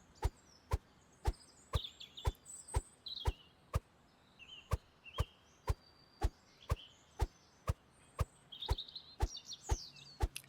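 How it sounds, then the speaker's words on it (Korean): Birds chirp and tweet outdoors in a leafy autumn setting, faint and intermittent, while a steady series of sharp, regular chopping or clicking knocks repeats about twice a second throughout. "새소리도 되게 좋고."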